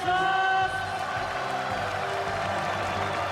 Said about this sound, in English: It's a standing ovation for Mark Coleman.